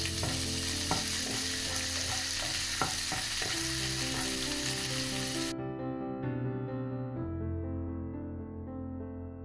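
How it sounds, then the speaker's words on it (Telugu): Onion pieces frying for upma, stirred in the pan with a utensil, give a steady sizzle with repeated scraping clinks; background music plays throughout at a similar level. "ఇవి మాడిపోకుండా జాగ్రత్తగా తిప్పుకోవాలండి"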